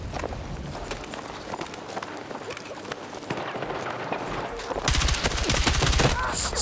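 Battlefield 6 gameplay carries rapid bursts of gunfire and running footsteps, growing into denser, louder automatic fire toward the end, with a player's voice heard now and then.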